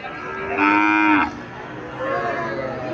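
A young Sahiwal heifer calf at a livestock market in Comilla lets out one clear, loud moo that lasts about a second, followed by a fainter, lower call against a soft background hum.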